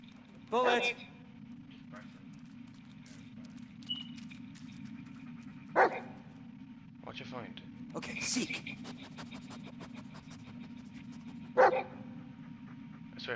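A dog in a dark, tense PS4 game barks in a few short, sharp bursts over a low steady hum, with a player talking between barks.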